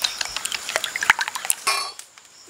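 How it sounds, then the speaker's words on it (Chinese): Three hen eggs are whisked in a bowl with a utensil: a quick run of light, close clinks and taps against the bowl that stops near the end. "搅拌搅拌。"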